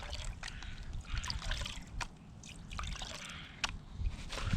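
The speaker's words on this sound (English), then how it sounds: "Wash your light stuff off." Water trickles and drips as light material is washed off the top of a gold pan at a swimming hole, with soft splashes and sloshes rising over a low, steady rumble.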